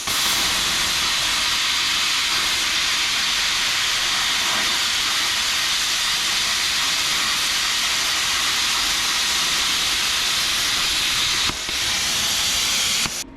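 Bestarc BTC500DP plasma cutter slicing through thick metal plate, a loud, steady roaring hiss that holds without a break for over ten seconds before cutting off abruptly.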